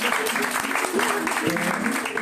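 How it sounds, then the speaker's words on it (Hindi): Children at a personality development and value education camp clap together in a steady, dense burst, with young voices chattering over the applause throughout. "ताली बजाओ"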